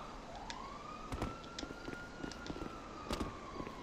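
Police siren in GTA 5 near an Ammu-Nation gun shop, a steady high wail held at a moderate distance, with scattered clicks and short bursts of street noise around it.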